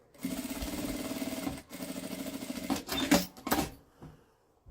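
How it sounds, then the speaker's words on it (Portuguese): Sewing machine stitching closed a bag lining, a quick whirring run at close range with a brief pause midway, then a few louder clunks before it stops. "passa uma costurinha pra fechar esse forro"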